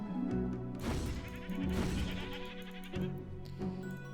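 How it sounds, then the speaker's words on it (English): Goats bleat repeatedly in the fantasy video game Hero's Song, loud wavering cries over background game music with occasional impact thuds and no speech. "So we can go back to murdering the shit out of every goat in the area."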